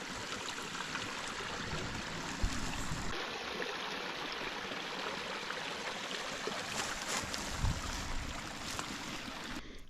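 Steady rushing and gurgling of a small creek along a canoe portage in Algonquin forest, continuous broadband water noise close by, with no voices.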